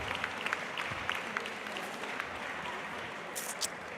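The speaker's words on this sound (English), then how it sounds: "One final round of applause" Steady applause from a crowd at a fitness competition finals podium ceremony, a continuous wash of clapping with occasional louder claps and faint cheers, heard at moderate distance.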